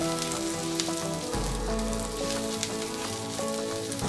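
Coriander seeds, fennel seeds and a cinnamon piece sautéing in hot oil for Marathi bharli vangi, giving a close, continuous crackling sizzle with a faint hum beneath and no talking.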